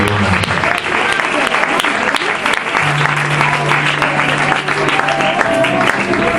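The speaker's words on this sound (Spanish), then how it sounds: "Da un aplauso para el Señor, con este aplauso de dar las gracias y adoración a Dios." A church congregation applauds loudly and continuously in thanks and worship to God. The dense, close clapping fills the whole stretch, with voices and a faint sustained tone mixed in beneath it.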